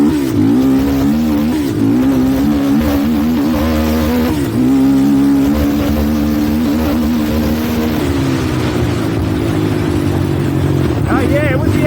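A Honda quad ATV engine revs hard and loud close by while riding, with a rising and falling pitch and no break. A voice speaks over it.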